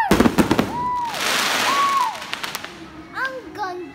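Fireworks burst at a San Agustin fiesta with a fast crackle of close pops at the start, then a hissing rush and scattered cracks, while people exclaim and chatter nearby.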